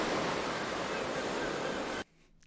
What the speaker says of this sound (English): Yay! Ocean noises,